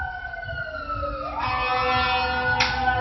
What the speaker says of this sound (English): Hear a siren?